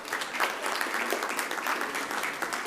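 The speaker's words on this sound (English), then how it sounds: "Let's give them another round of applause." A full round of applause fills a board of education meeting for a recognised elementary school team, continuous, even clapping throughout.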